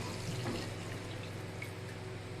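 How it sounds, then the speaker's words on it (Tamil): Quiet, steady stream of water running into a pan of vada curry, a soft continuous splashing trickle with no talking. "இதுக்கு தேவையான அளவு தண்ணி ஊற்றிக்கலாம்."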